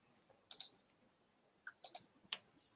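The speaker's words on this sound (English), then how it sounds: "I've forgotten how to click on a keyboard." Sparse clicks from a computer keyboard during a live listing session, a few separate taps and short double presses, close and fairly quiet with no talking.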